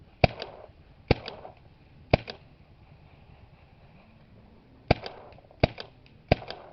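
A Pro-Team Products F/X Minicocker paintball marker fires sharp, snappy shots, three spaced singles and then a quicker cluster of three, with quiet pauses between them.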